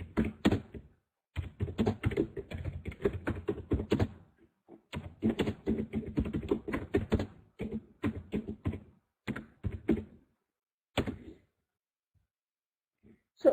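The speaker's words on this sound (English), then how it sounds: "Can you see what I'm typing?" Typing on a computer keyboard, rapid bursts of close, crisp key clicks broken by short pauses, with a few isolated taps toward the end and no talking.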